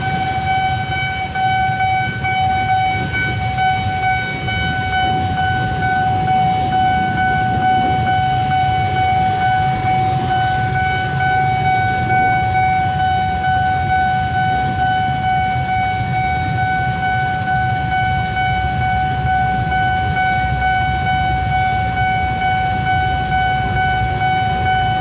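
A loud, steady warning tone with several sustained pitches rings continuously over rumbling background noise, like a railway crossing signal while a train goes by.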